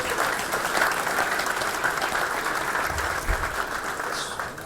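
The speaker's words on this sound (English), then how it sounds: "Give yourself a round of applause." Sustained applause from the audience at a gala program, many hands clapping in a dense, steady roar close by that tapers off slightly at the end, with no voices over it.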